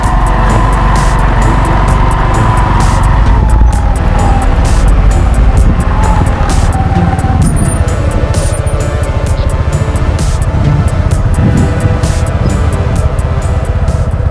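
Bajaj Boxer 150 motorcycle creeping slowly over ice on a winter forest track at about -3 °C, its engine a steady loud drone with wheel scrabbling and squeal-like slipping noises, no voices heard.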